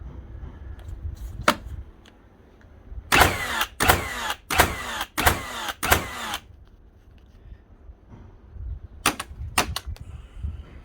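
A repaired nail gun fires in bump mode: a few separate shots, then a fast burst of about six sharp percussive bangs, and three more shots near the end, loud and close with no talking.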